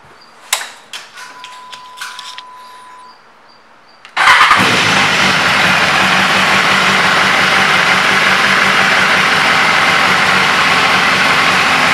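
A 2016 BMW S1000RR motorcycle cranks after some clicks and a brief electronic tone, then catches with a sharp rise into a loud, steady idle close by that holds to the end.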